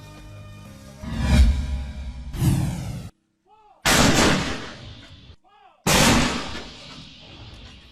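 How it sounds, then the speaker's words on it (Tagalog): A 105mm howitzer fires repeatedly during a military operation in Lanao del Sur, with several loud, booming blasts in close succession, each cut short between shots. "Sunod-sunod na nagpaputok ng 105 Howitzer sa tropa ng mga sundalo kahapon pupunta ng Butig, Lanao del Sur."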